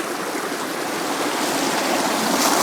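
A creek tumbles steadily over rocks below a bluff in snowy Alabama woods, making a continuous broad rushing wash that swells slightly louder toward the end, with no voices.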